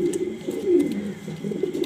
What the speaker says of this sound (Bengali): দেখতে পারতেছেন একজোড়া রেসার কবুতর